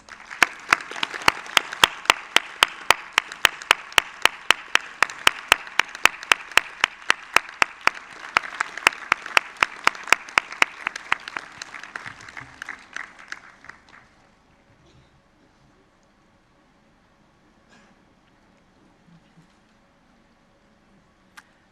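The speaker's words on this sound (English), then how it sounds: "please rise and join me in giving our parents a huge round of applause" Ceremony audience clapping together for parents at a teachers' investiture event, a loud dense round of applause that holds steady for about twelve seconds, then tapers off into near silence with a few stray claps.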